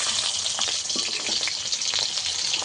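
Duck eggs frying in hot oil, a steady dense sizzle and crackle throughout with no pauses, fairly loud and close.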